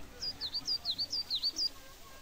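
A small bird in the Muv-Luv Photonflowers visual novel chirps in a quick run of about ten bright, evenly spaced tweets, clear over a faint background hum.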